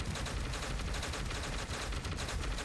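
A bolt gun firing at a very fast rate in the God of Weapons video game makes a dense, unbroken rattle of rapid shots that stays loud and steady throughout.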